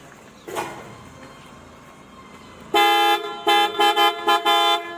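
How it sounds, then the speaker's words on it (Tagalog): After a brief knock, a loud aftermarket PIAA Super Bass car horn on a Nissan Terra blares once, then sounds in a rapid series of short honks, close and piercing. "Isang busina din."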